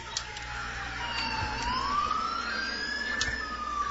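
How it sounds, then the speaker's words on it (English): Police car siren in the video game GTA IV, a rising and falling electronic wail sweeping steadily across the clip over low engine rumble, fairly close and continuous with no talking. "Listen to the sirens."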